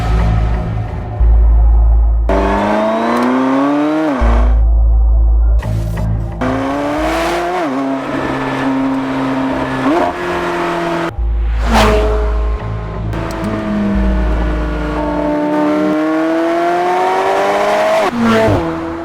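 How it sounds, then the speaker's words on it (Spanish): A 4-litre M480T V8 in a McLaren 720S supercar revs loudly again and again, each rising pull cut by a sharp shift, with a deep engine roar that stays up close throughout. "McLaren 720S, un supercoche. Motor de 4 litros, V8, el M480T, 720 caballos"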